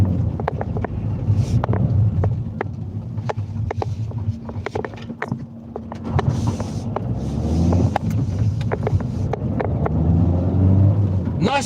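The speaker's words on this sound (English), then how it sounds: "Nice for you to hear the engine, the roar of my delivery beast." A milk delivery vehicle's engine drones steadily throughout at close range, partly buried under gusty wind buffeting the microphone, with scattered clicks and rattles.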